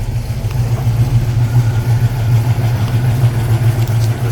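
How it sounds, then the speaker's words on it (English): A Chevy V8 fitted in a 1948 Buick Roadmaster street rod idles with a steady, loud, low rumble that holds an even, throbbing pulse throughout, heard close by with no talking over it. "Nice little rumble out of that Chevy V8."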